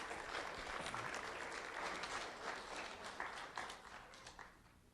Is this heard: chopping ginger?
no